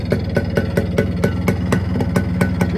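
A modified Yamaha RX 100 motorcycle idles in neutral, its two-stroke engine chugging in a steady, fast rhythm of evenly spaced pulses, close and fairly loud with no voices over it.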